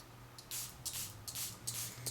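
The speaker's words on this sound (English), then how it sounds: "And I have to spray the sticky side" Several short hissing bursts of spray solution hit the sticky side of an iPhone protector film, close and fairly quiet, coming in a quick irregular series of about five puffs.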